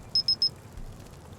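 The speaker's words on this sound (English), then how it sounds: "I want to hear the alarm go off" Cooking timer alarm in the SCUM survival video game, three quick bright electronic beeps in a rapid even run, clear and close over a faint low background hum, with no talking.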